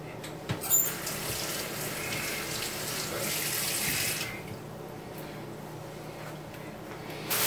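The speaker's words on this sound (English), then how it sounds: "Let me rinse this off." Tap water runs into a kitchen sink while a cucumber is rinsed under it, a steady close splashing stream for about four seconds that then drops to a softer trickle, with no voices.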